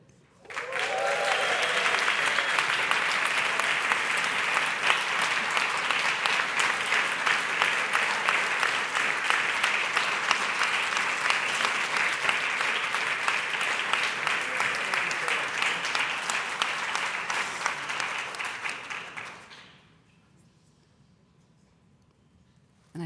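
Audience at the AIJA Annual General Assembly 2024 breaks into applause, a dense, even clapping that holds steady for close to twenty seconds before fading out quickly into near silence.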